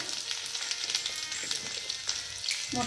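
Crushed garlic cloves dropped into hot oil for tadka, a fairly quiet crackling sizzle with scattered pops and small spits, close and steady for a few seconds; nobody speaks.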